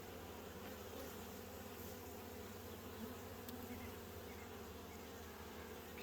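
Honey bees buzz continuously around hive frames during a hive inspection, a faint, even drone of many insects with no pauses.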